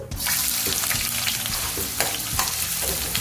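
Onions frying in hot ghee in a pan with cardamom, cinnamon and fennel seeds, a steady loud sizzle with stirring scrapes and small crackles throughout, no talk.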